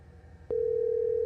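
A steady electronic tone starts abruptly after a short click and holds at constant pitch, like a phone line ringing or dialing, with faint background hum.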